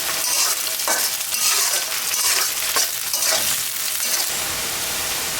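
Loud, steady sizzle of onion and chili frying in hot oil for beef tehari, with bursts of crackle and stirring scrapes throughout, close up and with no talk.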